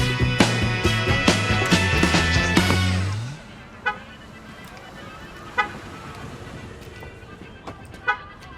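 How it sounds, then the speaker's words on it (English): A car alarm sounds loud and close in a series of harsh tonal bursts, then cuts off abruptly, leaving a quieter background with a few sharp clicks. "Your car has an alarm."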